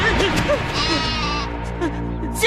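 A goat bleats loudly and close in a quavering cry that runs across the whole moment, with a quieter second bleat near the end.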